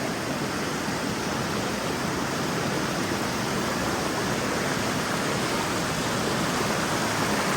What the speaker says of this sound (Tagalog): Yung agos pala, yung agos.